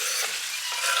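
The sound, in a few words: onions added to sugary oil mix, sizzling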